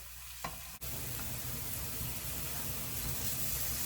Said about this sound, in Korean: 노릇노릇하게 앞뒤로 이렇게 구워주세요.